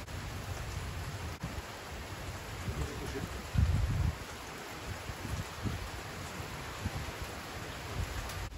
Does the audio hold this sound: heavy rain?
yes